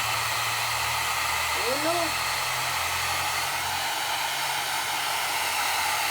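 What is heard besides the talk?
hair dryer blowing a dog dry after bath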